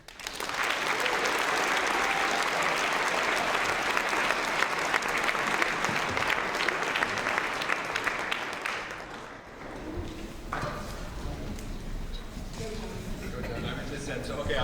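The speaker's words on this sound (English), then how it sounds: "give yourselves and the panel a round of applause" A large audience applauds a faculty panel at a college discussion of the Occupy Wall Street protests, loud dense clapping for about nine seconds that then thins to scattered claps and murmuring.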